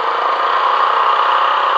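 A car engine drones steadily in second gear while climbing a mountain road in an echoing valley near Gangotri, Uttarkashi, a loud, even hum with no talk.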